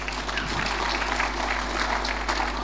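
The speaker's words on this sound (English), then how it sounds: "Let's clap hands for Jesus" A church congregation claps along after a call to praise, a steady broadband patter of many hands that continues without a break, with a sustained low hum beneath it.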